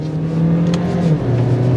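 A Volkswagen Golf with a 1.4-litre turbocharged petrol engine accelerates, giving a steady, close, humming engine drone whose pitch shifts slightly as it pulls through the short run.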